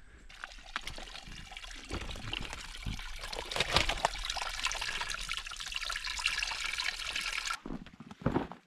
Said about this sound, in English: This here is a little stream, but it's not exactly gushing with water.